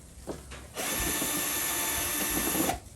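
A power driver runs steadily for about two seconds, driving a screw into a Westinghouse iGen2500 generator during setup, with a few faint handling knocks before it starts.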